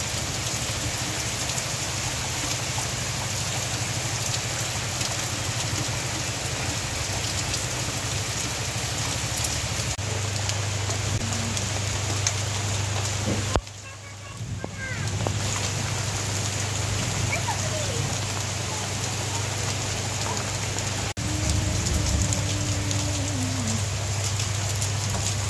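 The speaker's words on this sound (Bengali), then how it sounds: "মুষলধারে বৃষ্টি শুরু হয়েছে।" A heavy downpour drums steadily outside a home, a dense, even hiss of rain that persists throughout with a low steady hum beneath, with brief faint sounds near the middle.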